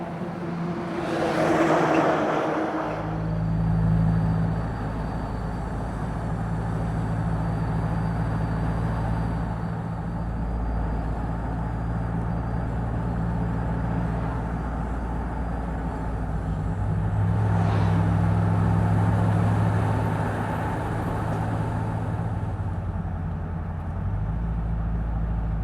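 A car cruises along Highway 96 toward Weitchpec, its steady engine and road drone continuous and close for the whole stretch, with gentle swells in pitch as it drives, and no talking.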